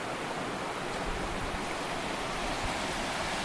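A creek in Pocosin Hollow, Shenandoah National Park, flows in a continuous, dense rush of water that stays even and close throughout, with no talking.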